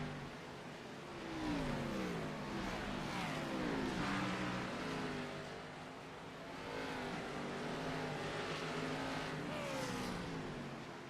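Race cars at Martinsville Speedway in a sim racing game roar and whine as they accelerate and pass through the turns, engine pitch rising and falling in overlapping sweeps at steady loudness.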